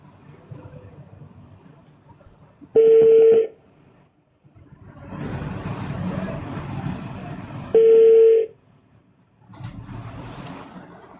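Two loud, steady electronic phone tones, each under a second, ring out on a speakerphone call, separated by stretches of muffled line noise and background voices.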